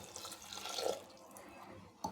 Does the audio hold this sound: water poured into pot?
yes